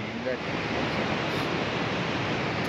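A rushing mountain river among rocks in Kyrgyzstan: a steady, dense roar of flowing water fills the whole stretch, loud and close, with no change in level.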